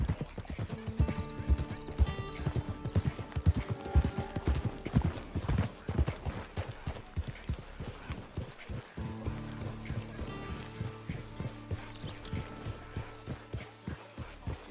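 A horse in the Red Dead Online video game trots with steady clip-clopping hooves, close and prominent, with a whinny partway through. The hoofbeats keep up a brisk rhythm throughout, with no speech over them.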